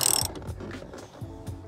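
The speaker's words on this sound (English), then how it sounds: "I gotta tighten the hub nut all the way on to sink the hub all the way down." Ratchet clicks in quick, uneven bursts while tightening the hub nut of an E36 steering wheel, close and fairly quiet, a handful of metallic pawl ticks spread over a moment.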